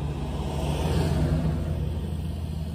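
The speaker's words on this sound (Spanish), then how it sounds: "ahorita lo voy a acelerar y mi hermana les va a grabar cómo se oye" A modified car engine idles with a steady, deep rumble near a stadium, loud and close with a slight swell in the middle and no talk over it.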